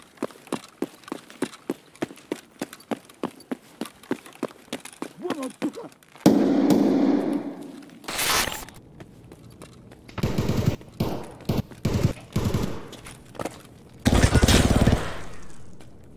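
Gunfire in the video game Escape From Tarkov: a long run of rapid, evenly spaced automatic shots, then louder bursts and heavy blasts in separate clusters, with players talking quietly beneath.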